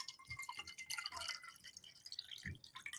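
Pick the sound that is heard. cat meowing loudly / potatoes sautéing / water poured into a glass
water poured into a glass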